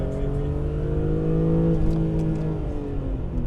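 1997 BMW M3 E36 with a 3.2-litre six and SMG gearbox accelerating at full throttle, its engine note climbing steadily in pitch, loud and close from inside the car.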